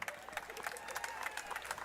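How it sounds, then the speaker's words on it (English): Faint, scattered clapping from spectators cheering the last runners of a Fourth of July road race, thin and distant with sparse individual claps. "make sure we applaud for all these final racers"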